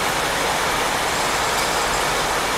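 The Tirupati–Coimbatore Intercity Superfast Express rumbles along in a steady, dense roar of wheels and carriage noise, heard from on board in rainy weather, loud and unbroken.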